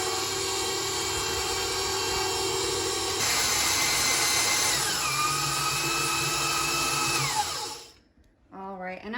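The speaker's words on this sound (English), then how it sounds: "we're just gonna mix it on medium high to high until it's completely combined" A stand mixer runs at medium-high to high speed, blending ingredients while cooking for a Super Bowl spread, a loud steady whir that shifts pitch partway through, then cuts off near the end.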